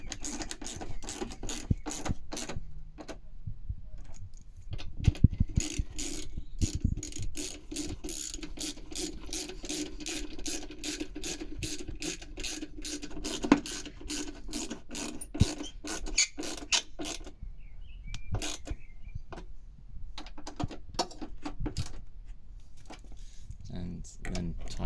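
Ratchet tightening the top headlight bolt on a Smart car, a long run of rapid close clicking strokes in steady bursts with short pauses, fairly quiet and alone throughout.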